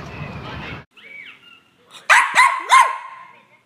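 A bold, loud house dog barks three times in quick succession after a brief whine, the sharp barks standing out clearly with no one speaking.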